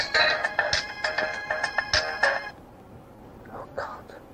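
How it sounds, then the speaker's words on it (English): A mobile phone ringtone for an incoming call plays as a loud, repeating tonal pattern of short bursts for about two and a half seconds, then stops, leaving quiet room noise with faint voices. "Incoming call."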